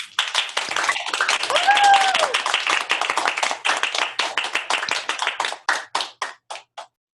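Applause and clapping from an online audience with unmuted microphones, welcoming Pro Football Hall of Famer James Lofton. Dense, uneven clapping rises to a peak, then thins into scattered separate claps and stops, with no talking.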